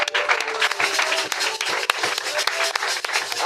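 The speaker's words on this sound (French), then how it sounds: "Acclamons encore." A church congregation claps together during worship, a dense rhythmic patter of many hands with a few voices and a held note sounding beneath.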